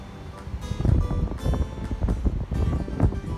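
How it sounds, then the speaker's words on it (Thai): Strong, gusty wind from a storm buffets the microphone in heavy rumbling bursts at a coastal cape, Laem Mae Phim in Thailand, with a steady whooshing roar underneath and no talking. "ตอนนี้ลมแรงนะฮะ"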